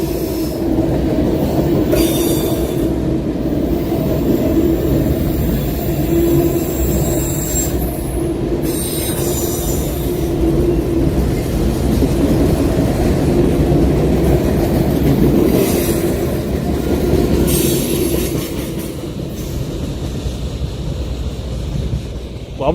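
A train rolls past up close for a sustained stretch, loud and steady, with squealing wheels and a rhythmic clickety-clack of wagons along the rail line in Henry County, Georgia, no talking over it.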